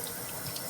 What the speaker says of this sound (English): I want to put it back on and try running water to it